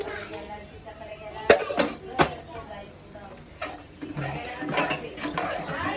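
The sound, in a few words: mixing mutton masala and spices in a pot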